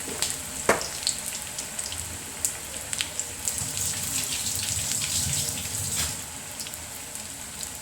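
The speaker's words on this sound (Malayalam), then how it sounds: "എണ്ണ തിളച്ചു തുടങ്ങിയിട്ടുണ്ട്. അപ്പം നമുക്ക് പഴം ഓരോന്നോരോന്ന് ഇട്ട് കൊടുക്കാം." Banana fritters (pazhampori) fry in boiling oil with a steady, close crackling sizzle and scattered sharp pops. No one speaks.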